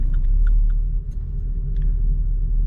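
A Vauxhall Corsa fitted with a performance air filter idles with a deep, steady engine rumble heard from inside the car, with a few faint clicks over it.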